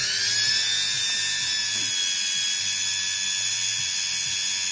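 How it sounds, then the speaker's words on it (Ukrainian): Motor of an Indesit washing machine revving up, a high whining pitch climbing and then holding steady, with a faint rhythmic mechanical clatter underneath, close and continuous. "Набирає обороти двигун."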